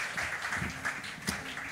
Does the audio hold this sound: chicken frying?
no